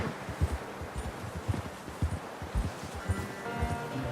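Horse hooves walk in Red Dead Redemption 2, a steady plodding clip-clop of soft dull thuds in an even rhythm over faint rustling, with no talking.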